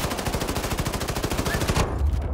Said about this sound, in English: The explosion is what did it.